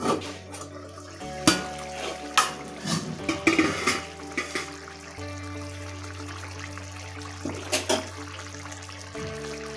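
Egg roast stirred in a pan just after the lid comes off, with repeated scraping and clinking of a spoon against metal, near and fairly loud over a steady low stove hum.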